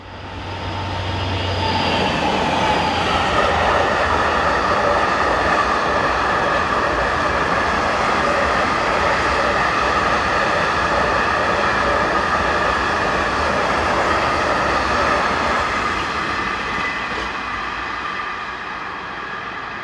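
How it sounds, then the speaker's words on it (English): Trains led by locomotives 75036 and 75106 roll north in a continuous loud rumble of wheels and engine, steady for nearly twenty seconds with a faint tonal whine, easing slightly at the end. "Heading north, we see 75036 and 75106."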